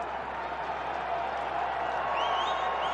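Steady crowd noise fills a baseball stadium during a Cleveland versus White Sox game, a sustained wash of applause and cheering at moderate distance with a few whistles rising near the end.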